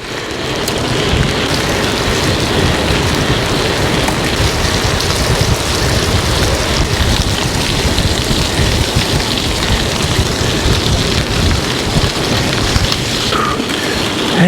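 Heavy rain pours down during a gravel bike ride through the forest of Blois, making a loud, dense, unbroken hiss of drops close around the rider with no talking.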